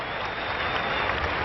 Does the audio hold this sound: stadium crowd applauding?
yes